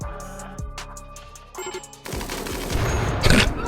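Rapid gunfire in the video game RimWorld aimed at charging Boomalopes, starting with scattered pops before a dense, louder burst of shots takes over in the last half, with no voices.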